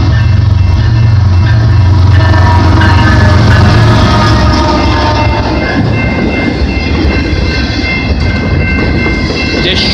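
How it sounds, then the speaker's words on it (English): BNSF freight train with locomotive 6769 leading on the Galt Subdivision at Maitland Street in London, Ontario, in winter: a loud, steady rumble and rail clatter of cars rolling past close by throughout. "So we got BNSF"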